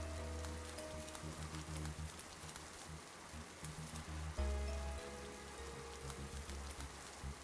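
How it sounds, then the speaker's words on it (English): Steady rain falling outdoors in a woodland video game scene, a constant soft patter and hiss with low ambient tones underneath, no voices. "A coat would be handy in the rain."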